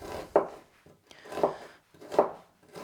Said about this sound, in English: So I'm just gonna cut one of these red onions fine for my coleslaw.